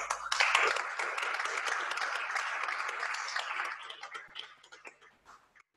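A French audience at a heritage digitisation launch event applauds students as they come forward. Dense, steady clapping holds for several seconds, then fades to a few scattered claps and stops.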